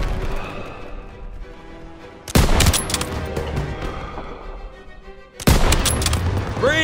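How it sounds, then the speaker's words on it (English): Gunfire crackles through a Call of Duty: WWII street battle against German troops, a sustained fusillade with two sharp, loud bursts of shots breaking out over the background battle din. "They're taking fire from behind!"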